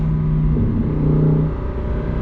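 Steady Lamborghini Huracan Tecnica V10 engine with its exhaust valves closed below about 4,000 rpm, a loud close rumbling drone whose pitch dips and shifts slightly midway, then settles into a rougher hum, with no voices.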